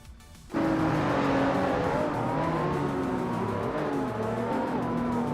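A 2022 Lotus Emira race car in a racing video game kicks in abruptly, its engine droning loudly with rising and shifting tones alongside other cars, continuous and close after a short quiet start.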